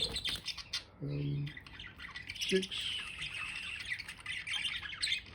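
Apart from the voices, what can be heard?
budgies chirping and squawking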